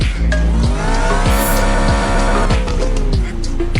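In a realistic car driving video game, the KGF car engine revs hard, loud and close, with rising and falling pitch sweeps and sharp gear-like jumps.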